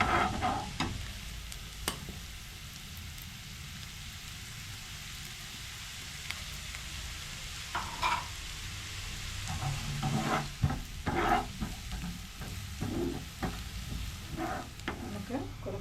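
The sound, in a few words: frying chopped green chillies in a pan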